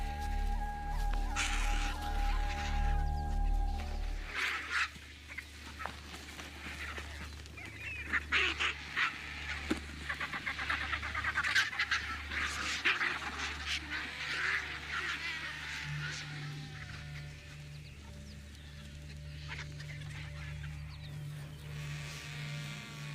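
Birds crowd around a leopard's kill in Tanzania's Serengeti, giving loud, overlapping honking and squawking calls over a steady low drone.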